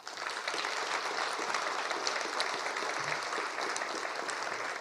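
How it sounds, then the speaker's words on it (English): An audience applauds federal election candidates at an all-candidates forum, with steady dense clapping that holds evenly throughout, no voices over it. "how about another applause for them?"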